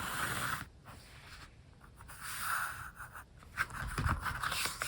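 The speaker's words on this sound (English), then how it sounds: "put a little bit of pencil marks on there so I know where to cut." Pencil marking on cardboard, close and quiet scratchy strokes in short bursts separated by brief pauses, with no talking.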